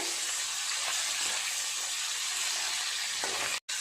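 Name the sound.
hilsa fish frying in oil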